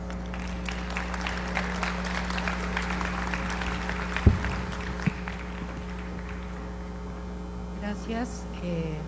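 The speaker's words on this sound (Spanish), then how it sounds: "Brindémosle un caluroso aplauso a la licenciada Cristina Híjar" Warm applause from an audience at an art lecture, a steady patter of clapping over a strong electrical hum, with a couple of louder knocks midway before it thins out.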